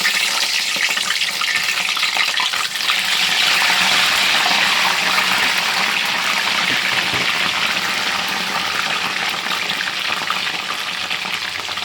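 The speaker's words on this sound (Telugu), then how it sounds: "ఇవైతే ఆయిల్ వేసేస్తున్నాను చూడండి" Oil hits cut aloe vera and onions in a hot pan, setting off a loud, continuous hiss and sizzle that runs steadily throughout with no talking.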